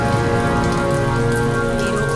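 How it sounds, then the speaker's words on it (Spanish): Steady, loud rain falling without a break, a dense even patter throughout. "¿Pero cómo se atreve esta lluvia a interrumpirme?"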